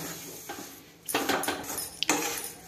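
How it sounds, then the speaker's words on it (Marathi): Besan flour being roasted in ghee in a pan and stirred with a utensil, giving soft scraping clatter and a few sharper metallic knocks against the pan, close and fairly quiet. "असं सारखं हलवत राहायचं बघा।"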